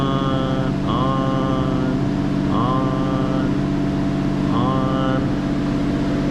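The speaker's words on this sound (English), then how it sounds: "Yeah, I got all these exhaust fans." Exhaust fans running steadily aboard a boat during a refit, a constant mechanical drone with a low tonal hum, loud and close, with occasional rising whirring tones layered over it.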